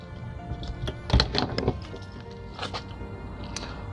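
The front storage bin door on a 2020 Heartland Fuel 352 toy hauler being worked open, a close thunk followed by a cluster of latch clicks and rattles, then lighter knocks.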